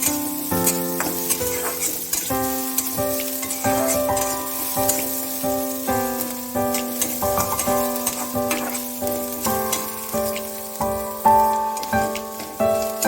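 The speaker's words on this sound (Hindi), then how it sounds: "प्याज को रेड मत करना, बस हल्का ही उसको थोड़ा नरम करने तक हाई फ्लेम में।" Chopped onions fry on a high flame in a pan for veg Manchurian, with a steady sizzle and stirring scrapes that sit beneath prominent background music.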